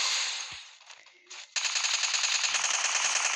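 A P90 submachine gun in a video game fires rapid automatic bursts. After a brief lull a long, loud continuous stream of shots follows.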